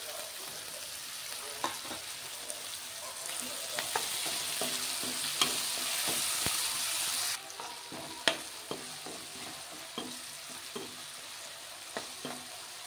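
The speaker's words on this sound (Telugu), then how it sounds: "పచ్చివాసన పోయేంత వరకు అల్లం వెల్లుల్లి పేస్ట్ కూడా ఫ్రై చేసుకోవాలి" Ginger garlic paste and chopped tomato fry in a pan with a steady, soft sizzle, punctuated by occasional clicks and taps of a spatula stirring, close and without talk.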